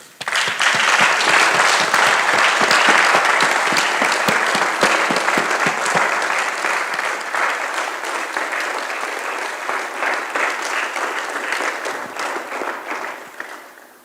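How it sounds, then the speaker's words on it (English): Loud, sustained applause from a graduation ceremony audience for a medicine and health sciences class, dense, crisp clapping that stays strong for most of the stretch before gradually thinning toward the end. "let's give them a strong round of applause"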